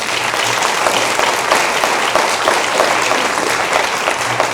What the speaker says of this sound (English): Can you all please give another warm round of applause for Alice Saunders, Dr. Hillary Van Dyke